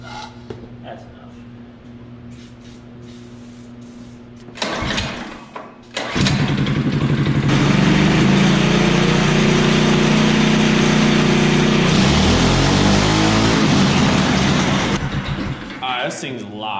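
A homemade track sled's small engine sputters through a couple of pull attempts, then fires and roars loudly with an unbaffled muffler, revving up and down close by while someone talks.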